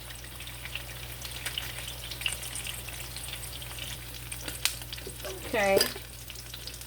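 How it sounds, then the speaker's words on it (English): A cowboy steak fries in a pan with a steady soft sizzle, a brief louder burst of spitting near the end, and a short spoken word over it. "we're going to let this fry about 4 minutes on each side"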